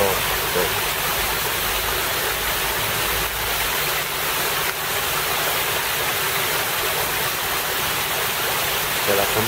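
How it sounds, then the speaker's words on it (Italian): Water running in the bell-shaped fountain at Piazza Giovanni Verga at night, a loud steady rushing splash heard close and continuous. "C'è la campana con l'acqua, spesso senza acqua."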